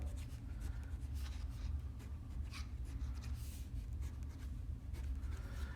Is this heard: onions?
no